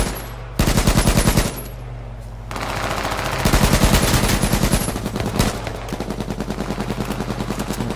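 Heavy gunfire rattles through an H1Z1 battle royale match: several sustained automatic bursts of many rapid, loud shots, separated by brief pauses, with steadier firing continuing to the end.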